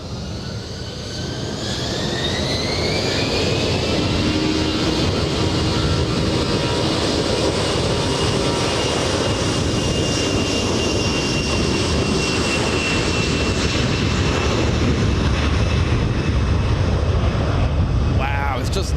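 A Philippine Airlines jet arriving from Seoul at Los Angeles International Airport, its engine roar swelling and then holding loud and steady with a whining tone that slides downward, over wind buffeting at the microphone.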